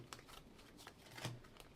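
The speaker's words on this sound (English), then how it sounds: "I'm going to be shuffling your cards differently than what I'm used to." Tarot cards are shuffled close up, a faint run of soft riffling flicks and papery slaps in an irregular rhythm, heard alone in a quiet room.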